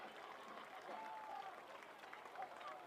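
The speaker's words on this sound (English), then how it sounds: "Let's give a round of applause to all the students" Crowd applause at a high school football game, a soft, distant, continuous patter of clapping from the stands, with crowd noise and faint voices blended in.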